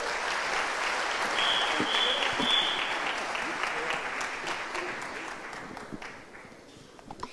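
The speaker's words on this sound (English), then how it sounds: "Please give our panelists a round of applause" Sustained applause from an audience for panelists at a national dialogue event, dense and steady, slowly thinning toward the end with a few scattered claps.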